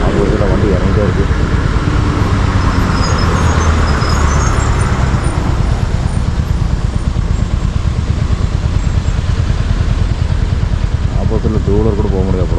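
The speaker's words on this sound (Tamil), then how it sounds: "அது இதில் வண்டி இறங்கிட்டே இருக்குது." A vehicle descends the steep hairpin bends of the Bannari–Thimbam mountain ghat road. A loud, steady engine drone and road rumble run throughout, with people talking inside over the noise.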